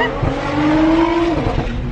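A Nissan GTR launches and accelerates hard with a loud engine roar close by and a rising whine as it pulls, heard from inside the car, with no talking.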